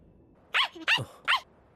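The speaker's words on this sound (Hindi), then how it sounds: "ये तो साकुरागी परिवार का कुत्ता है।" A dog from an animated series gives three short, distinct barks or yips in quick succession, fairly close and clear against a quiet background.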